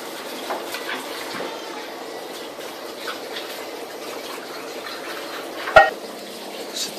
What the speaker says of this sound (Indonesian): Setelah itu aduk merata.